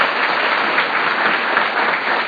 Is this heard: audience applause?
yes